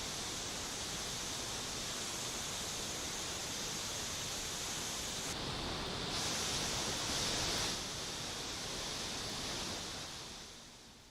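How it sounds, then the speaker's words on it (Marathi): A waterfall pours down from high mountains in the Satpura range, a loud, steady, unbroken roar close to the mic that fades slightly at the very end, with no voices. "उंच पर्वतावरून वाहणारा धबधबा"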